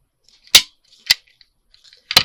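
A stapler punches staples through scrappy paper ruffles: three sharp, close snapping clacks, irregularly spaced, with quiet pauses between them.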